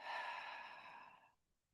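One long, slow exhale during a Taichi Shibashi qigong exercise, close and soft, fading out after about a second and a quarter into near silence.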